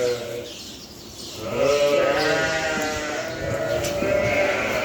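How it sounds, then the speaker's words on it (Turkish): A newborn German black-headed sheep lamb on a farm bleats repeatedly in close, loud, wavering cries that run through most of the clip, with background farm noise and no clear speech over them. "Bu Alman karabaşlarının kuzusu."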